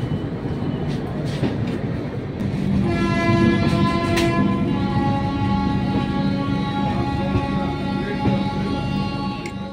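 Tamralipta Express pulling out of Howrah station, a loud, steady rumble of rolling rail cars with a sustained horn joining in partway through.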